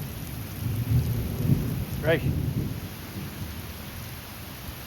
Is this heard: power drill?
no